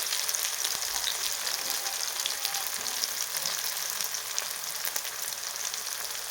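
Green chilies frying in oil with a steady, dense crackling sizzle and faint popping, close and unbroken throughout.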